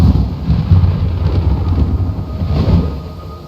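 Heavy rain pours with a deep rolling thunder rumble in the video game Metal Gear Solid 3: Snake Eater, loud and continuous, with no voices.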